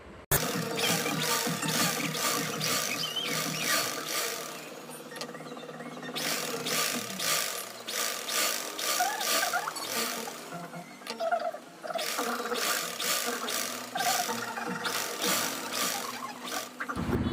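A sewing machine stitches the side joint of a size 34 blouse, running in long steady bursts of rapid rhythmic mechanical chatter with a brief pause midway, close and fairly loud with no talk.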